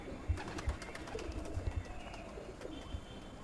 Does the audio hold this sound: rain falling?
no